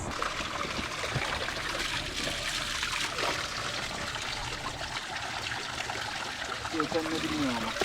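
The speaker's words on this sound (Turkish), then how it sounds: "Bak suyu doldurma kanka." Water pours steadily into a bottle outdoors during a bikepacking ride through the Konya countryside, a continuous close trickle over broad wind and road noise lasting several seconds.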